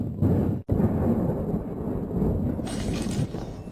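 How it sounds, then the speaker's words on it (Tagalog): Thick tempered glass windows on a house built on a lake break apart in a loud, sustained roar of crashing and crumbling, with a short dropout near the start and a brighter clatter of debris toward the end; no speech. "Bumabagsak ang salamin."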